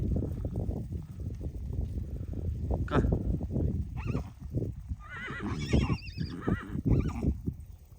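Captured Kazakh horses whinny and neigh several times, loud and close, with stamping hooves and some rustling around them.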